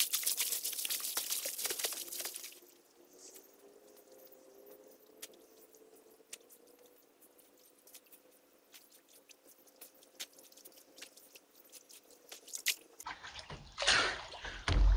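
A person splashes around in warm lake water in the evening, producing soft close swishes and drips over a quiet, faint background, with heavier splashing at the start and end.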